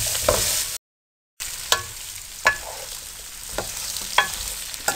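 Potatoes frying in a pan for aloo fry, with a steady close sizzle, a brief break early on, and several sharp spoon scrapes and taps as they are stirred.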